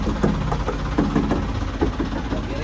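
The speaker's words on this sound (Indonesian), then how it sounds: "Suara mesinnya kedengeran ya." A car engine idles with a steady, low, rumbling drone at moderate distance, continuous and even throughout.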